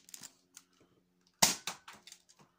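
A modified Nerf N-Strike Doubledown blaster fires with one sharp, close pop, followed by a few lighter clatters and small knocks.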